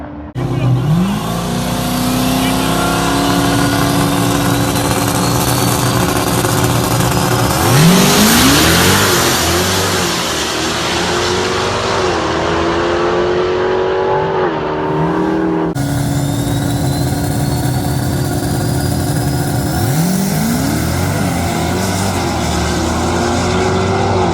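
A Chevrolet-powered no-prep drag race car engine roars and revs continuously, rising in pitch as it accelerates, loud and close, with a second burst of acceleration partway through.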